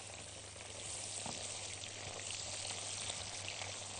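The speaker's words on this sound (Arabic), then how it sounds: "هنقوم على طول منزلين شرايح التوم، شرايح البصل" Sausage frying in a pan with sliced garlic and onion, a steady, dense sizzle that holds loud and even from start to finish, with a low hum underneath.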